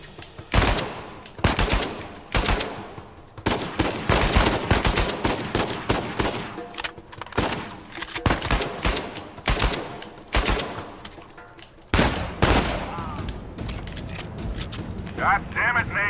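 Rapid bursts of automatic gunfire in the Uncharted 4 video game on PS4 Pro, loud and dense, with repeated volleys and brief pauses, mixed with voices shouting over the shooting.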